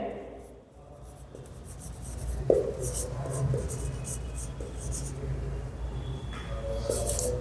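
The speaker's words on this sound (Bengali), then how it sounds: "তাহলে আমরা লিখতে পারি" Pen scratching on paper while a geometry proof is written out, a soft steady scraping close by that runs under low background noise.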